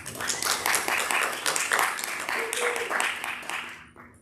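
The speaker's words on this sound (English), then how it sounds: "Let's give them another round of applause." Congregation at a meditation service applauding a band after their music, a steady wash of many hands clapping, loud and continuous for about four seconds before tapering off abruptly.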